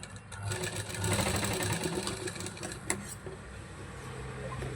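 Sewing machine stitching a baby frock, a close, fast run of mechanical chatter that rises and eases over a few seconds, with a sharp click near the end.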